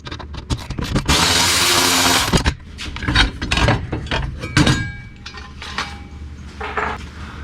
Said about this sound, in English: to take out these 4 bolts here to remove this metal plate. You need a 15mm socket wrench. Electric ratchet makes it easier,